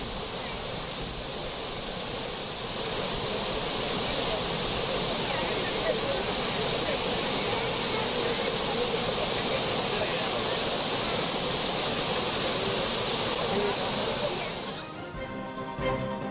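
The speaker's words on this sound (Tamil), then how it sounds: "தென்காசி மாவட்டம் குற்றாலத்தில் உள்ள அருவிகளில் வெள்ளப்பெருக்கு ஏற்பட்டுள்ளது" Flooded waterfalls at Courtallam in Tenkasi district roar after heavy rain, a loud, continuous rushing wash of water that holds steady before fading slightly at the end.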